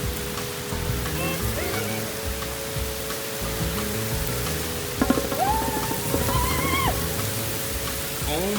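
Heavy rain pours outdoors in a steady, dense wash of noise, with faint talk and a few brief whistling tones over it.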